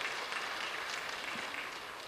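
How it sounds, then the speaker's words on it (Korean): A church congregation at a Friday evening worship gathering claps for standing elementary students and their teachers, a dense, even patter of many hands heard from a distance, faint and unbroken. "우리 저들을 축복하면서 한번 힘차게 박수 한번 해주시기 바랍니다."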